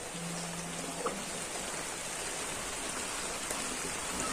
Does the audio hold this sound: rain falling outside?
yes